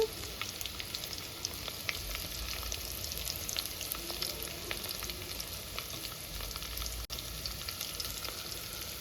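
Three dried red chillies fry in hot oil with crushed garlic, giving a loud, even, crackling sizzle throughout with no voices.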